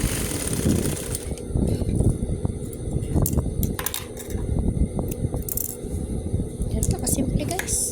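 Sewing machine stitching a round rag rug at home, its steady mechanical clatter and whir running continuously with occasional rattles and clicks.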